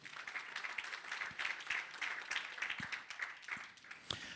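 An audience at a women's sports summit claps in a dense, continuous burst of applause, steady and fairly close, tapering slightly near the end.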